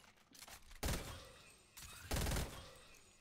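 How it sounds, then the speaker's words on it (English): A stinger SMG in a video game fires two loud, rapid bursts about a second apart, each cutting off sharply and leaving a short decay between them. "This is a stinger SMG."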